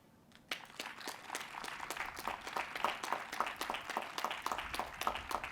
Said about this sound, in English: Clap your hands if there is someone here with you today that is supportive of you.